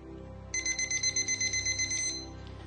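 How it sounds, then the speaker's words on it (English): A kitchen-style timer alarm going off after three minutes gives a rapid run of bright, evenly spaced beeps for about a second and a half, loud and close over a low background rumble. "now that the 3 minutes has gone off"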